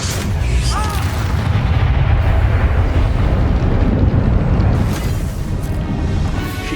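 Confringo blasting spell explosions going off in the Hogwarts Legacy video game: loud, dense booming blasts that rumble on continuously, with sharp bursts layered over a sustained low roar throughout.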